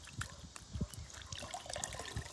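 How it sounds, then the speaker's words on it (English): A water-soaked cloth is wrung out by hand, giving soft trickling and dripping splashes with small wet squeezes, quiet and close. "I just use straight water and wring it out"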